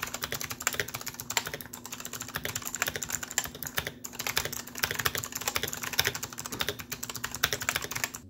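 Rapid, steady clicking of keys on a Razer Huntsman Elite mechanical keyboard, close and continuous for several seconds with a brief pause near the middle.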